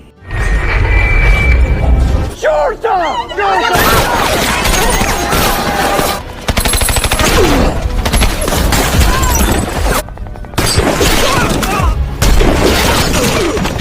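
Gunfire erupts in a shootout between soldiers and drug cartel gunmen, dense bursts and cracks layered with explosions and crashing debris, loud and continuous with brief lulls and some voices mixed in.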